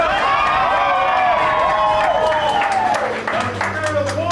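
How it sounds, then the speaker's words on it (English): A crowd at a haunted attraction gathering applauds, with clapping mixed with loud whoops and cheering voices that rise and fall over several seconds. "Give yourselves another round of applause"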